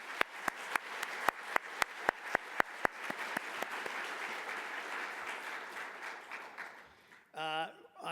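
Applause from a plenary session audience at a scientific workshop, opening with a few sharp, distinct claps before swelling into a steady, full round of clapping that slowly fades, with a brief voice near the end.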